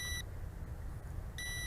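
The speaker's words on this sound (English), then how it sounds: "the remote control is making a beeping noise" An FPV drone's handheld remote control beeping during a GPS return-to-home flight, two short high electronic beeps at the start and end over a quiet background hum, faint and alone.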